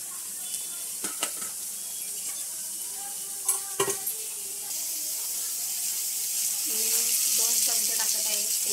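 Chopped onion sizzles in hot oil in a pan, a steady hiss broken by scraping stirs and a few clinks, with faint talk at times.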